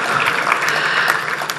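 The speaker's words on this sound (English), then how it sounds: "I can understand the meaning of this huge clapping also." Huge, steady applause from a large audience at an institute foundation day celebration fills the hall, a dense, continuous wash of clapping with no gaps.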